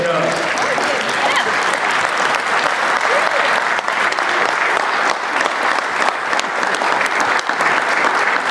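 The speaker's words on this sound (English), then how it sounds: "I want people to clap for you" Audience at a Pittsburg State Hall of Fame induction ceremony applauding steadily, a dense, sustained clapping that fills the hall throughout with no break.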